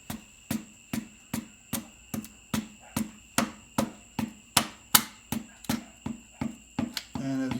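A DT466 diesel piston is tapped down into its cylinder liner with the rubber handle of a hammer: about sixteen sharp, evenly spaced knocks, roughly two per second, heard close up with nothing else over them.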